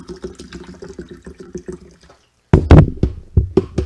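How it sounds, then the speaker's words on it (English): Water gushes from a tap into a sink, loud and splashy with irregular knocks after a stretch of quieter clattering. "I'm gonna get some water down here."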